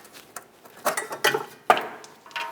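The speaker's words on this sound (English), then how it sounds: "Now I'm going to use some pliers so we can remove our clip up along the top here." Pliers working a metal locking clip off a brake flex hose at the top of the rear brake line on a 2015-2019 Subaru Outback, giving a few sharp close metallic clicks and scrapes.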